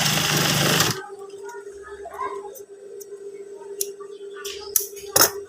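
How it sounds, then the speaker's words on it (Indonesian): A sewing machine stitching a trouser waistband, a brief loud burst of running at the start, then quiet handling clicks and faint hum with a couple of short knocks near the end. "Kemudian kita jahit kembali seperti ini."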